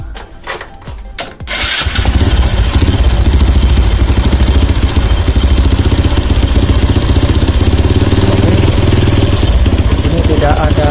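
Motorcycle engine started up with its exhaust checked for leaks: a few brief cranking bursts, then a loud, steady, close idle with rapid clattering exhaust pulses that runs without pause.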